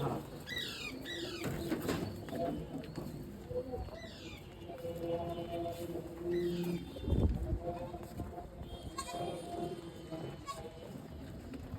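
Pigeons in a cage coo softly and flap their wings in short bursts, with rustling and occasional thumps nearby and faint talk in the background.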